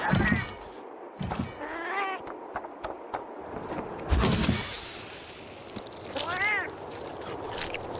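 Cat cooks in a video game meow in a few drawn-out, wavering calls amid game sounds and thuds, while a person talks over them.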